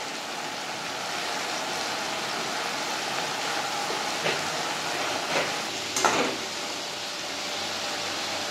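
Ground cumin, Kashmiri chilli powder and other spices fry together in a pan with a steady close sizzle throughout, broken by a few brief stirring scrapes, with no talk.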